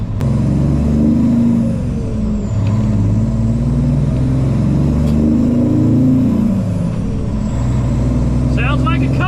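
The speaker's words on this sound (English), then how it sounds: "Sounds like a Cummins." Peterbilt 379 truck with Cummins engine and Dynaflex 7-inch straight pipe stacks idling and revving nearby, a loud deep rumbling exhaust with throttle swells, and a brief hiss near the end.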